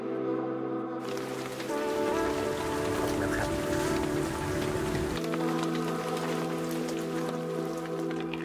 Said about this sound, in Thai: ตอนนี้อากาศก็ไม่ค่อยดีเท่าไหร่ฝนเริ่มจะตกแล้วครับ